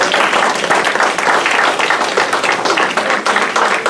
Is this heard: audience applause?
yes